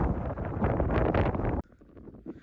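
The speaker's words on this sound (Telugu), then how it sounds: "అసలు విండ్ మాత్రం ఎంత స్పీడ్గా వస్తుంది అంటే, విండ్ అంత స్పీడ్గా వస్తుంది" Strong wind gusts on a misty mountain peak buffet the microphone in a loud, rough roar that cuts off abruptly, leaving a quieter stretch of faint rustling.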